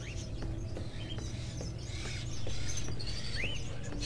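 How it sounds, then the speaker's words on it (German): Small birds chirp and tweet in short scattered calls over a steady low hum inside the Fahrenheit video game, the calls fairly faint and close, with no one speaking. "So, Vögelchen."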